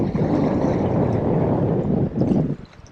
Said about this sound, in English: It's just the wind's beating me at the minute